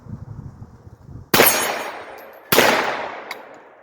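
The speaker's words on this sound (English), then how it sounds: "we're going to try and bump fire this" Pistol fitted with a tennis ball brace for bump firing lets off two sharp, loud gunshots about a second apart, each ringing out and decaying, after a stretch of quiet rustling.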